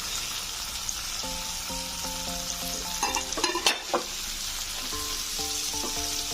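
Okra and potatoes fry in a pan for a vegetarian Bengali curry, sizzling steadily with no speech. A burst of spatula scraping and clatter comes in the middle, and faint tonal pan ringing sounds in patches throughout.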